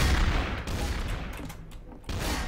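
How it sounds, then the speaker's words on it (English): Video game gunfire from sniper rifle shots, loud cracking reports and bursts up front that thin out briefly before another loud burst returns near the end, with no voices over it. "I'm getting hit by a sniper rifle."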